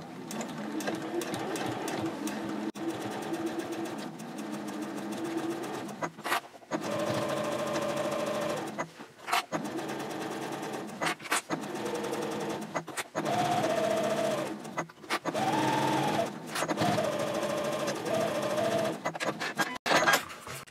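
A sewing machine bastes two fabric pieces for a mini backpack card holder at a 3.4 stitch length, running close in repeated bursts of steady stitching separated by short pauses.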